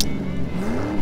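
Race car engine sounds in a homemade remake of the Cars movie: a steady motor drone with a slowly rising revving whine over about a second, close and moderately loud, no speech.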